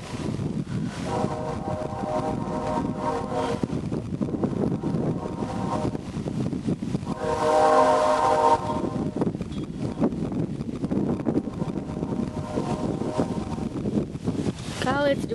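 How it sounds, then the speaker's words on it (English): A BNSF mixed freight train rumbles past with wind buffeting the microphone, its horn blasting in several long, loud blows over the steady roll of the cars, while a person talks now and then. "Golly, it's doing a lot of horn."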